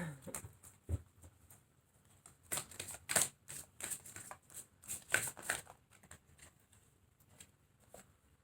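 Tarot cards being shuffled, a close run of crisp riffling bursts and soft card taps in a quiet room, with no voices.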